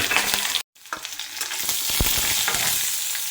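Onions, dried chillies, curry leaves and green chilli frying in a pan, a close, steady sizzle with stirring scrapes, briefly cut off for a moment before continuing.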